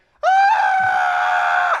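A voice imitates a blood-curdling scream, a single loud, sustained shriek that starts abruptly and holds for about a second and a half before cutting off.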